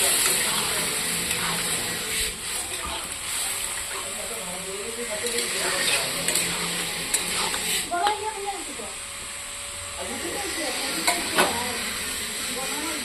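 Vegetable curry with water added bubbles and sizzles softly in a pan, with occasional stirring scrapes over a steady hiss, while a person talks over it.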